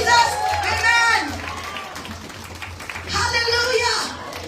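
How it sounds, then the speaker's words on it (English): A church congregation claps hands in two bursts of dense, crowd-wide clapping, with a quieter gap between them where voices, including a child's, carry on underneath. "Clap your hands for Jesus"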